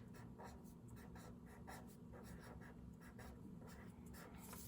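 Pen scratching out words on a number bond board game, a quiet run of short repeated strokes over a steady low hum, no talking.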